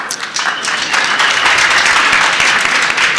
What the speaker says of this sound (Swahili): Simwapigie makofi